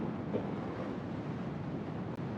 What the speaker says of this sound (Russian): Ветрище тут, конечно, все как и говорили.